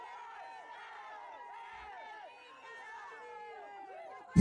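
A lively crowd at a night UPSL Premier Division soccer match in Marietta, Potros FC against LSA Norcross, fills the air with steady chatter and overlapping shouts at an even level, with a sharp thump at the very end.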